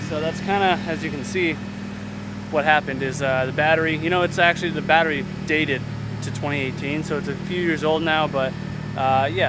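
A Honda Integra DA9 with a K-series engine idles slightly high with a flat battery after a jump start, a steady low hum running under continuous close talking.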